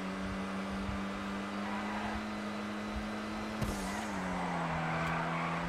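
A Dinka Kanjo SJ, a Honda Civic-style car, drives and corners in a video game, its steady engine drone holding pitch then dipping briefly with a short tire squeal mid-turn, continuous and without talk.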